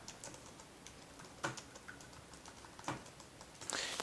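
Keys tapped on a computer keyboard while entering figures into a spreadsheet: soft, uneven clicks with a few sharper strokes and a brief burst near the end, close by and quiet, with no voices.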